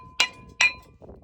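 An old brake rotor being smacked loose from a vehicle gives two sharp, bright metallic clanks about half a second apart, each ringing briefly before fading to quiet.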